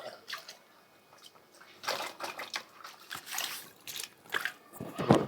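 Rainwater drains off a rooftop terrace in Ongole as a soft, uneven trickle and splash, faint and close, with small surges and drips throughout.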